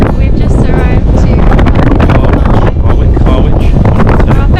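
Strong, steady wind roars across the microphone at the Harwich ferry port on a grey, cold day, a loud continuous rumble with no pauses.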